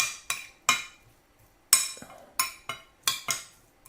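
A spoon clinks repeatedly against a bowl while tuna poke is mixed with soy sauce and vegetables: sharp, bright metallic taps in an irregular rhythm, close and clear, with no talking.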